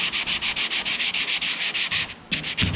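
Body filler on a Ford Falcon XB GS under restoration is hand sanded with 120-grit sandpaper. Rapid, even back-and-forth rasping strokes sound close up and alone, then slow near the end.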